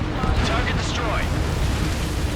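A missile explosion destroys a target in the combat flight game Ace Combat 7, heard as a loud, dense rumbling boom over steady jet engine roar. A radio voice briefly talks over it.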